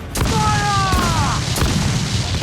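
Ship cannons firing in a naval battle in Assassin's Creed Black Flag: loud booming blasts over a dense roar of battle noise, with a few whistling tones, close and heavy.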